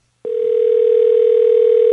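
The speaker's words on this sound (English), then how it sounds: "I love the sound of the phone ringing." A steady telephone dial tone starts abruptly and holds loud and unbroken as a call is being placed, alone with no talk over it.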